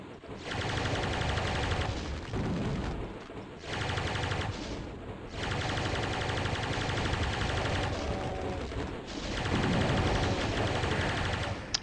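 Rapid automatic gunfire rips through a fight with the Spider Mastermind in the DOOM video game. Long, dense bursts of shooting come in close, loud stretches separated by short pauses.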